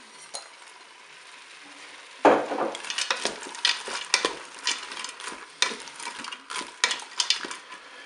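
Farfalle pasta tipped into a pan with white wine, followed by sizzling and the clatter of a utensil stirring against the pan in irregular scrapes and clinks, close and moderately loud with no talk.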